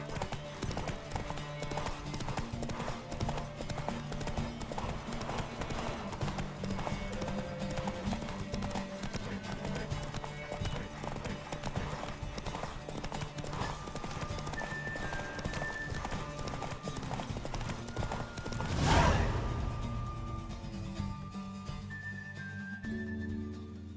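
Steady clip-clop of horse hooves at a run in The Witcher 3, continuous and close throughout, with a brief whinny near the end and game ambience underneath.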